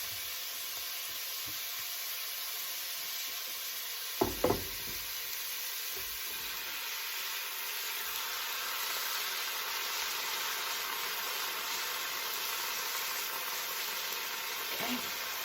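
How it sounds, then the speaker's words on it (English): Tomatoes go into a hot pan of cauliflower, coconut oil, ginger and turmeric stew, bringing a steady broad sizzle throughout, with two sharp knocks near the start of the addition and a faint clink later. "Now, I'm going to add those tomatoes."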